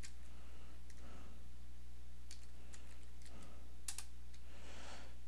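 Someone types on a computer keyboard while playing an online text game, with soft scattered keystrokes in brief bursts over a constant low electrical hum, faint and close.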